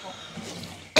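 A single sharp cough bursts out at the very end, loud and close, after a stretch of quiet room background.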